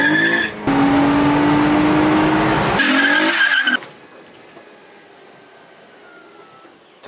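A car launches hard with the clutch dumped at full throttle, engine roaring as the tires squeal loudly for a few seconds before the sound cuts away to a quiet, distant background.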